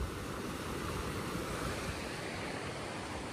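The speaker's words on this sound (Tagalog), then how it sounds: "Laki ng alon dito." Steady, continuous roar of ocean surf with large waves, a broad wash of noise and wind rumble, loud and unbroken throughout.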